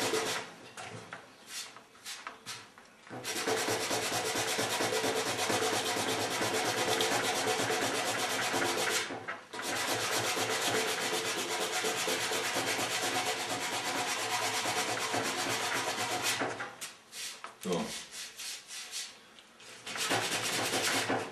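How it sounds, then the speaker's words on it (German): Hand sanding of car paint on a designer-painted panel with a sanding block during a spot repair, a steady broadband scraping rub that runs nearly continuously with a few short pauses, close and alone with no talk. "So lange schleifen, bis diese tiefen Kratzer weg sind."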